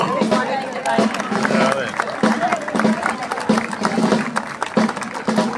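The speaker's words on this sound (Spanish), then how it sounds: "¡Fuerte el aplauso!" Crowd applause at a city anniversary parade in Río Primero, rhythmic clapping and stamping with marching steps, mixed with crowd chatter and talk.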